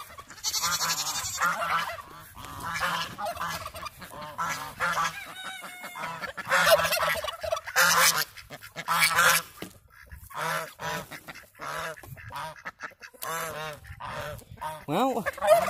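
Geese honk repeatedly in a noisy, overlapping chorus, some calls near and loud, others farther off, with a few other fowl sounds mixed in.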